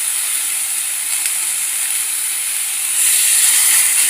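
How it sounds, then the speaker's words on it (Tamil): Water poured into a hot pan of drumstick (murungakkai) stir-fry hisses and steams loudly and continuously. The sizzle grows stronger toward the end. "1/2 டம்ளர் தண்ணி ஊற்றி"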